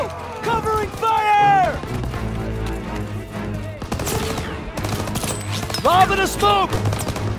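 Covering machine-gun fire aimed at an MG nest rattles in the World War II shooter Call of Duty WWII, with battlefield bursts and crashes, and soldiers shouting over the din.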